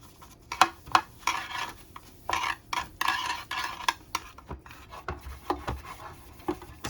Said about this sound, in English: I'm going to grease the pan. I put a little butter,